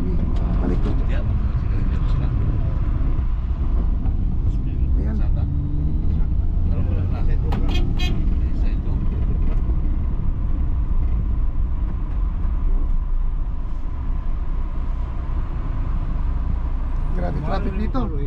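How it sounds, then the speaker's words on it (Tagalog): Heavy road traffic in Bukidnon near Kubon Market rumbles continuously as a steady low engine drone with passing vehicles, while people talk over it throughout. "Grabe traffic dito."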